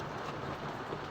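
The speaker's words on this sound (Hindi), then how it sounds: "बारिश भी हो रही है ना," Steady rain pours down in a rural setting, a dense, even hiss with no breaks, close and constant, and no voices over it.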